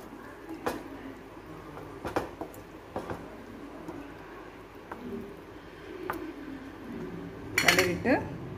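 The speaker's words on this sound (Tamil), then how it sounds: "நல்லா கிளறிடுங்க." A utensil scrapes and clinks against a pan while stirring prawn thoku, in several separate strokes with a louder burst of clatter near the end.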